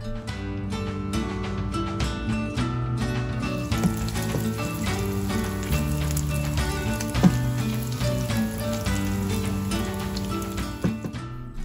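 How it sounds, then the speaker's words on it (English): Celery and onion sautéing with potatoes in bacon fat with a little butter for loaded potato soup, a steady close sizzle and crackle running continuously under background music. "I'm adding celery and onion that I will saute in the bacon fat"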